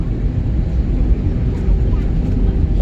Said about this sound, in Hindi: अब ये जहाज उड़ने के फिराक में है